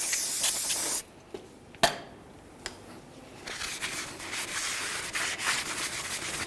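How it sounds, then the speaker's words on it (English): Backside of a brake rotor on a 2003–2011 Mercury Grand Marquis being cleaned with a short spray burst followed by scrubbing, faint close hissing and rubbing strokes with small knocks in between. "let's clean up the backside of our brake rotor"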